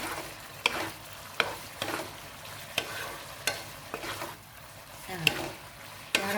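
Thinly sliced pork belly stir-fries with shrimp paste in a hot pan. A spatula strikes and scrapes in a steady rhythm of sharp clicks over a soft, continuous sizzle.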